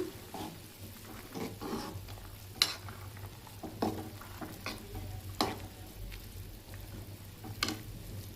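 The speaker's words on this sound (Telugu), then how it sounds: "ఇవి పులుసు వండుతున్నా." Tamarind stew (pulusu) cooking in a pan, a low steady simmer with a spoon or ladle scraping and clinking against the pan at irregular intervals, close and moderately quiet, no talking.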